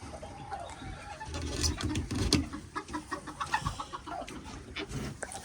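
Hens and a rooster cluck and call close by in a backyard poultry coop, a busy overlapping chorus of short clucks and squawks with no talking.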